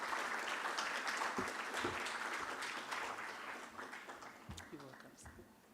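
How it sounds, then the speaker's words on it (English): At an energy conference in Ghana, an audience claps to welcome a speaker to the stage, a broad wash of many hands that is fairly faint and gradually thins out, with a few voices heard toward the end. "Distinguished ladies and gentlemen, please help me welcome with a round of applause Dr. John Abdullahi Jinapor."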